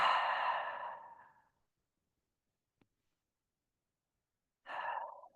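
Slow, deep breaths during a prenatal yoga session, a long sighing exhale followed by quiet, then another breath beginning near the end, close and soft with no talking.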